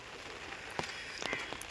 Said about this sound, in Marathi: आता हे पावसाचं काय छत्री घेऊन फिरायला लागतं यार